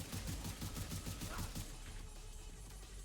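Enemy fire in The Division 2 video game, electricity grenades being launched, comes through as a dense, rapid burst of shots that rattles steadily for about a second and a half before settling into a lower crackling rumble.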